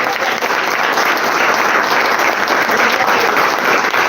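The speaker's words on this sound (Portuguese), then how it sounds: "Você pode aplaudir Jesus?" A church congregation bursts into loud, sustained applause, dense clapping from many hands filling the room at an even level throughout.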